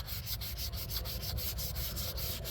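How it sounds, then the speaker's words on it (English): Hand sanding with sandpaper on a model rocket: quick back-and-forth rasping strokes in a steady rhythm, close and fairly loud, no voices. "just like we're always doing when we're sanding"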